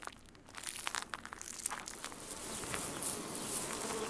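Bees swarm around rows of white wooden beehives in a field behind a house on a honey farm, a steady, dense buzzing with individual insects droning close past the microphone.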